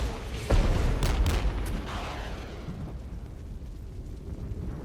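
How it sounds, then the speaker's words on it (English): Artillery and napalm explosions in the Regiments strategy game: a heavy boom followed by a short cluster of further blasts, then a long fading rumble of burning and distant impacts. "the napalm plus the artillery is doing decent damage over time"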